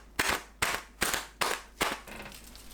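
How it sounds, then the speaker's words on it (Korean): Five sharp popping punctures in a steady rhythm, close and crisp, as chopsticks jab through taut plastic wrap covering a bowl of soft tofu with carrot and green onion, then quiet. "랩 씌우고 젓가락이나 포크로 구멍 몇 개 뚫어줍니다."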